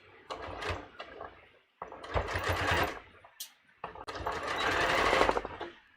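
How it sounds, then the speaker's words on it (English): A sewing machine stitches through layers of fabric for a thumb-hole cuff in three loud, close bursts of rapid buzzing, separated by short pauses. "You can see I'm just sewing through all the layers, and I'm taking my pins out as I come to them."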